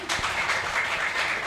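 Audience clapping at the opening ceremony of the IWAPI Malang Regency office in Turen, East Java: a steady, dense patter of many hands, continuous and fairly close.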